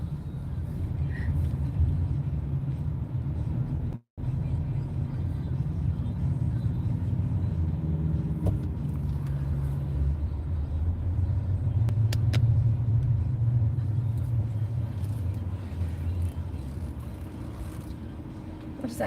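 A car idling with a low steady rumble at a gas station, close and continuous for the whole stretch, with faint distant traffic behind it.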